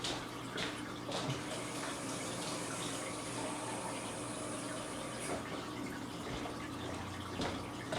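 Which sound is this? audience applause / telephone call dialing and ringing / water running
water running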